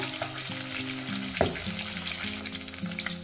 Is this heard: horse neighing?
no